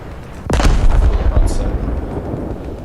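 A battleship's main guns firing in the naval battles of War Thunder: one huge, close boom with a sharp attack, followed by a long rolling low rumble that slowly fades, with a brief high hiss partway through.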